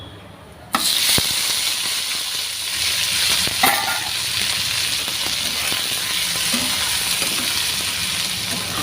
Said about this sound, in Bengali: এবারে এই কড়াতে তেল গরম হয়ে গিয়েছে তাওয়াতে। এবারে এই জিরা দিয়ে দেবো